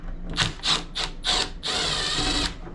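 A power driver backs screws out of an LG Multi V concealed duct indoor unit, with four short whirring bursts followed by one longer steady run, close and fairly loud.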